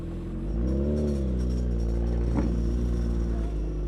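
A Suzuki Hayabusa 1300cc sportbike with a full exhaust rumbles steadily at close range while being ridden, its engine note rising briefly and then holding an even drone throughout.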